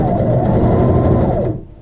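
A sewing machine runs a short back stitch on a loop for a child's shirt, a loud, close, fast mechanical whir lasting about a second and a half before stopping.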